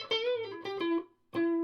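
An FGN Japanese electric guitar on its position-4 hum-cancelling single-coil pickup plays a few clear, bright notes with light distortion, ringing out between short pauses.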